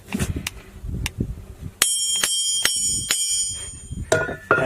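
A hammer strikes an iron anvil floating on a pool of mercury, giving about seven bright, ringing metallic clangs at uneven intervals. The blows are close and loud, with duller knocks at the start.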